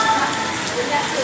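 Rain falls steadily in Cameron Highlands, a close, continuous pattering hiss on surfaces while someone speaks over it.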